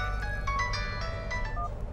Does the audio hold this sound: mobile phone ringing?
yes